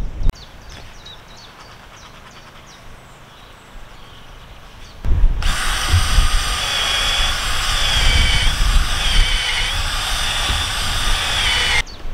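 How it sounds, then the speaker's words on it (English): A quiet room with faint ticks gives way to a loud, steady power-drill whine boring a pivot hole through wood for a field gate, close and sustained for several seconds. "let's mark out and drill out the hole for the pivot in the tree"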